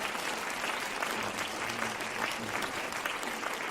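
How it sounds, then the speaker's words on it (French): An audience at a magic and music show in a conservatory hall applauds a magician's act, continuous even clapping filling the room from start to end. "Je vous demande de l'applaudir bien fort"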